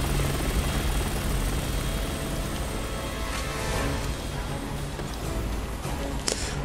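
A helicopter's rotor in the video game Resident Evil 6 drones loudly and continuously, filling the scene with a dense, thudding whir and no clear breaks.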